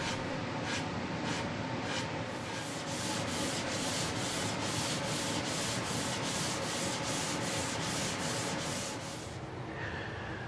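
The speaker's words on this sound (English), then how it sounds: "there's a lot of work with either power sanding or good old-fashioned hand sanding" Hand sanding on wood, a rapid even rhythm of back-and-forth scratchy strokes, close up and continuous, then a brief pause at the end.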